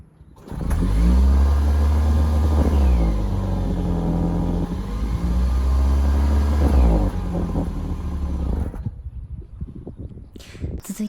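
New-model Toyota Prius with its stock exhaust muffler, its limited engine revving up loudly and holding a steady drone for about eight seconds before cutting off, followed by faint scattered noises.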